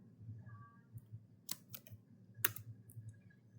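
Quiet, scattered keystrokes on a computer keyboard tap in short irregular clusters while a console command is entered in a Packet Tracer network setup, with a soft background hum.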